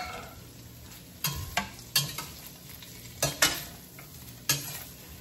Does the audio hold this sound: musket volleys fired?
no